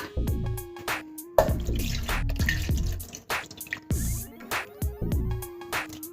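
Water is poured into a jar holding a ground spice mixture for Sankranthi sakkinalu, with splashing trickles and drips broken by clinks and knocks against the jar, close and clear with no talk.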